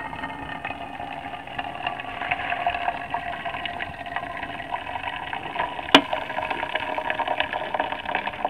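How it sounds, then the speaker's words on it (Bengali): A cooked rice pot is tipped into a silver bucket outdoors at a cooking fire. A steady, even rushing pour runs throughout, with one sharp knock about two-thirds of the way in. "ভাত হাঁড়িটা আমি এখন সিলভারের বালতিতে গড়িয়ে নিচ্ছি"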